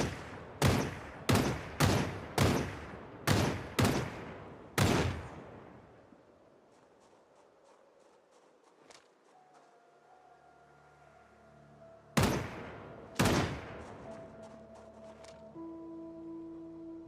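Gunfire at a shooting range in the Project Zomboid video game: a rapid string of sharp, loud shots in steady rhythm, a quiet stretch, then two more shots, with a faint hum in the background.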